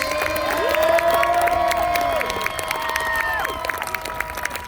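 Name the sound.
crowd applauding and cheering the Kenilworth Knights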